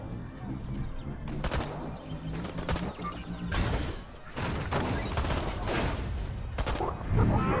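Rapid volleys of alien weapon fire from the video game Destroy All Humans 2 Reprobed crackle in dense, repeated bursts over a continuous game soundscape, loud and busy throughout with little pause.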